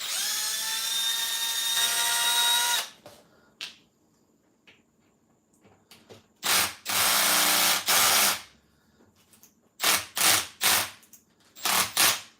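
A power drill drives stronger screws during repairs on a Korg Kronos XTR keyboard, whining steadily at first and then running in several short, loud bursts separated by quiet pauses.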